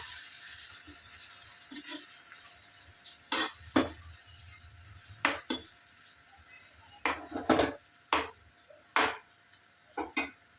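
Onion and tomato mixture stirred in a frying pan: scattered sharp scrapes and clanks of a spoon against the pan, about a dozen over the stretch, over a faint steady sizzle, close and with no voices.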